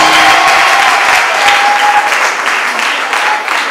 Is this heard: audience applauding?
yes